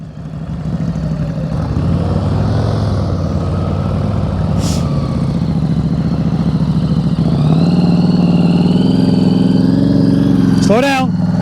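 Motorcycle engine during slow-speed riding practice around cones, a steady close rumble that rises as the throttle opens; an instructor's voice calls out over it, with a brief squeal near the end.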